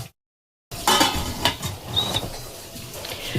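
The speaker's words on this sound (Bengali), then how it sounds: "তো দিয়ে দেওয়ার পরে এবার আমি উপরে ঢাকাটা দিয়ে দেবো" A lid is set on top of an idli steamer pot in a home kitchen, with a few light metallic clanks and rattles up close after a brief silence.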